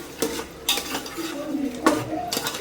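A spoon scrapes and clanks in a pan as marinated chicken is stirred into hot oil for chicken fry, with a faint sizzle under the close, irregular stirring.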